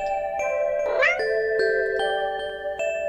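A stray cat in a video game meows once, a drawn-out rising cry, over a steady musical tone with soft rhythmic ticks, close and clear.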